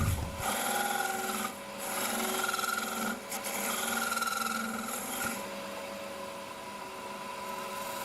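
A flat scraper rasps along a wooden taper in steady, continuous strokes, close and fairly loud, with brief pauses between passes.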